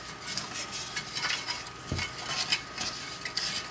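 Meat browning in a pan for homemade gravy, with soft stirring scrapes and a low sizzle running through, close by and fairly quiet, with a brief knock near the middle.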